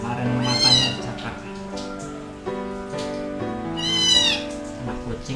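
Two-month-old kittens meow loudly and repeatedly in a rescue home while competing over milk, with two prominent high, drawn-out cries standing out over continuous mewing and a person speaking gently nearby.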